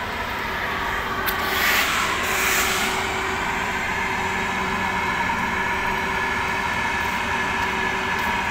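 A freight train rolls past in hilly terrain with a continuous rumbling clatter of wagons on the rails, loud and close, swelling slightly early on and then holding steady with a faint whine; no voices are heard.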